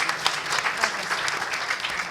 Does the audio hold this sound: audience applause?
yes